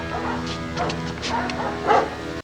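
Dogs bark and yip in a Terminator film scene, several quick barks and whimpers of moderate loudness over a steady background hum.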